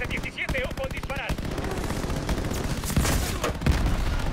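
Machine-gun fire rattles in Call of Duty: Vanguard during a Pacific battle, loud and rapid, with shouted voices early on and heavier bangs toward the end.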